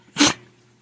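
A dog gives one short, sharp sneeze, a quick close burst of breathy noise lasting a fraction of a second against near silence.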